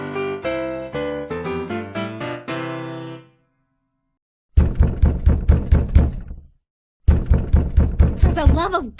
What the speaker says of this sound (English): who's doing that banging at my door?